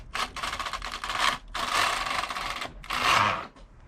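A Passap E6000 knitting machine carriage is pushed across a row in three quick mechanical passes, each a sliding, clattering rush with short pauses between, close and clear.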